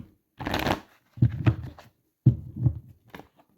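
Oracle cards are shuffled for a tarot-style reading in three short riffling bursts with brief pauses between them, close and crisp, ending in a light tap, with no talk.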